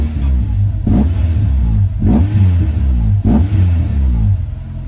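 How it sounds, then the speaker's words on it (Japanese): A Honda S2000 (AP2) fitted with a Mugen exhaust manifold and a Spoon muffler revs up sharply three times in quick succession, each blip rising and falling back to a steady, loud idle heard up close. "このスプーンのマフラーはかなりいい音しますね。 ちょっと吹かしてみます。"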